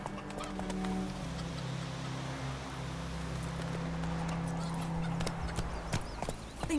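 Roach the horse gallops in The Witcher 3, a steady clip-clop of hooves running continuously under a low droning game soundscape, fairly close and even in loudness throughout.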